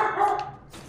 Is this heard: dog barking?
yes